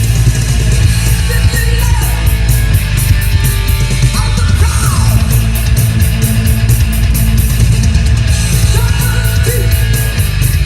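Heavy metal track plays from a record, loud and dense throughout with steady driving drums and distorted guitars, no voices talking over it.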